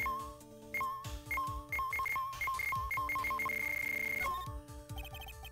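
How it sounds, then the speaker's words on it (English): Electronic cell phone ringtone from the Phoenix Wright: Ace Attorney – Justice For All video game: a repeating chirpy melodic beep pattern with a sustained high tone near the end, over soft game background music. "Cell phone."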